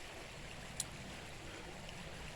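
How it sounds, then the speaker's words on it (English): A creek flows close by on a cloudy day, giving a steady, even wash of water noise with one brief sharp click partway through. "Got my creek behind me"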